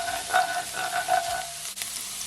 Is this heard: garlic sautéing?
yes